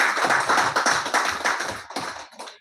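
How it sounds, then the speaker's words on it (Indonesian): Audience applause during the induction ceremony of an organization's board in Indonesia, a dense stretch of many hands clapping that carries on steadily and fades out near the end. "Tepuk tangan kita."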